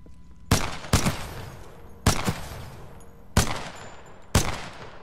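Five sharp, loud gunshots ring out at irregular intervals from a weapon in the video game Titanfall 2, each blast followed by a short decaying tail, with no talk over them.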